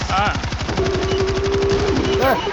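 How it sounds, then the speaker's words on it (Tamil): Rapid automatic gunfire from a machine gun in the zombie shooter video game World War Z, a dense steady burst of shots running throughout, loud and close, with a sustained tone and a short voice near the end. "மிஷன் கன் வச்சு கீழே சுடுங்க"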